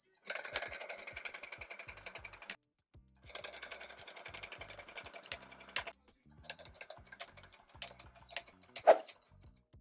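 Handheld tufting gun, a lighter machine than heavier models, punching yarn through fabric on a frame in rapid rattling bursts, three long runs separated by short pauses, close and fairly loud with no talking.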